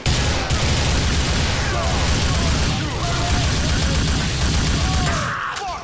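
A chaotic gunfight rages in GTA Vice City, loud dense volleys of gunshots and booms packed together without pause, with shouting voices mixed in among the shooting.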